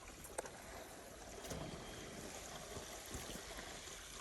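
Water gushes from the outlet pipe of a gravity-powered water system in a steady, broad rushing splash at low level, continuous throughout with small bumps in the flow.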